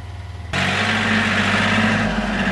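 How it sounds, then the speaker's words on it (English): A tractor engine idles nearby and then swells into a louder, steady working rumble as the front end loader dumps dirt into the bed of a Polaris Ranger 700XP; no one speaks. "Daddy's got a front end loader on his tractor, and he's gonna fill up the bed of the Ranger with dirt"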